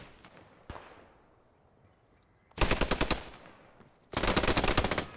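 Two sustained bursts of MG 34 machine gun fire in the WWII shooter Post Scriptum, each a rapid loud rattle lasting about a second and a half, preceded by a single sharp shot with a fading tail.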